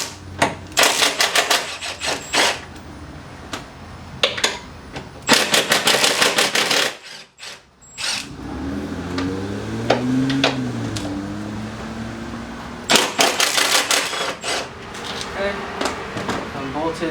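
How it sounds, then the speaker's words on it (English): A Porsche 987 Cayman front strut top mount is unbolted with a power tool, giving several close, loud rattling bursts of an impact gun separated by pauses, with a lower whirring stretch in the middle. "Gonna unbolt it from the top."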